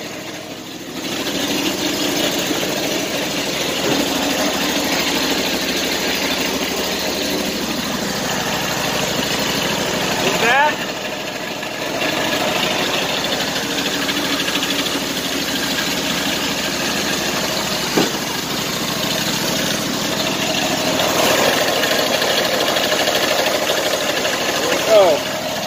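A car engine idling steadily just after a cold winter start, check-engine light still on, a continuous mid-pitched hum with slight knocking and vibration and a couple of small clicks.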